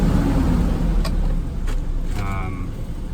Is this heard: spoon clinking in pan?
no